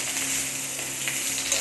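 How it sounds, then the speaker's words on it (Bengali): Potato and papaya frying together in a pan give a steady, close sizzle with a constant hiss and a few small pops, and no voices. "একটু ভেজে নিচ্ছে আলু পেঁপে একসঙ্গে"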